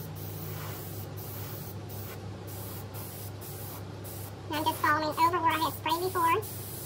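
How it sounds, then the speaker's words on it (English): A steady, close hiss of an aerosol spray can runs for several seconds, then a voice chatters briefly near the end. "Always spray it out first before you start laying the paint."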